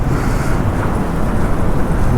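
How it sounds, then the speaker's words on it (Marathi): Loud, steady roar of sea surf mixed with wind buffeting the microphone, continuous with no speech. "समुद्राचा असा लाटांचा आवाज येतो ना"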